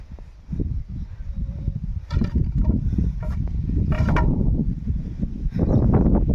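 On a farm field spread with manure, a tractor fills in a ditch: a low, steady engine rumble runs throughout, broken by scattered mechanical clanks and knocks.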